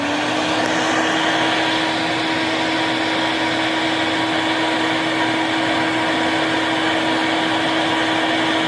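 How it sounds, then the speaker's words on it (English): A shop vacuum runs loud and steady while sucking sawdust from beneath a scroll saw, a constant whining roar with a sharp tonal hum and no talking throughout. "let's turn the vacuum on and see what happens"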